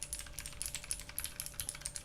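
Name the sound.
typing on custom keyboard with clicky blue switches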